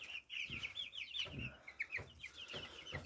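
A small flock of naked-neck chicks, some two to three weeks old, peep and cluck quietly in a steady run of high chirps with soft lower clucks between them.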